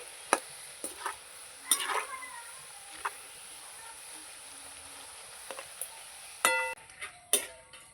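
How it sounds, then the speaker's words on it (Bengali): Rolled maida nimki are frying in oil with a soft background sizzle, broken by scattered sharp clicks and clatters, probably the utensil against the pan, and no talk. "এই যে ময়দা দিয়ে বেলেছিলাম যেটা সেটা এবার ভেজে নিচ্ছি"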